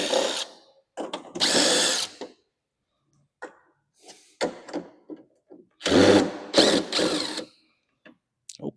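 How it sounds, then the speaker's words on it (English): A rapid screw extractor backs screws out of a Toro snow blower in several bursts of power-tool whirring, some long and some short, separated by quiet pauses and light clicks. "Let's use this and pop out a few screws and see what we see. Get my handy dandy rapid screw extractor."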